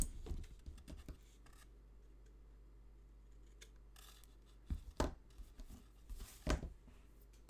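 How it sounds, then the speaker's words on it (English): Scissors trim excess paper from a handmade accordion-fold card, producing a few quiet, close snips and paper rustles in short bursts separated by near silence. "just trim off the excess"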